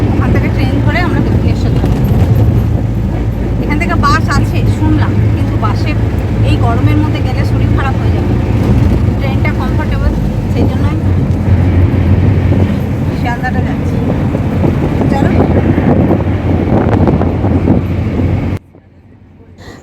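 Riding inside a taxi through Kolkata traffic toward Sealdah, with a steady loud road rumble and wind roar throughout, faint honks and street noise outside, and people talking inside the cab before the sound cuts off near the end.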